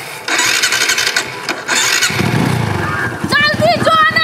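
A motorcycle starts up in a Maithili comedy sketch, its engine catching and running with a rough mid-pitched rumble for a few seconds. People talk loudly close by, over and after it.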